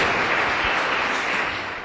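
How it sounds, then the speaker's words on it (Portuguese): A church congregation applauding during an evening service, a dense, even wash of many hands clapping that fades slightly toward the end. "Dá uma salva de palmas para Jesus."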